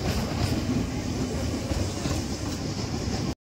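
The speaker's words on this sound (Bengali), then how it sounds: "আমাদের ট্রেন ছেড়ে দিল শিয়ালদা স্টেশনের 9 নম্বর প্ল্যাটফর্ম থেকে" A Puri Duronto Express train pulls out of Sealdah station, giving a steady, loud rumble of rolling wheels and carriages with faint clickety-clack throughout, no voices.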